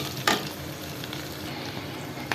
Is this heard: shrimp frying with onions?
yes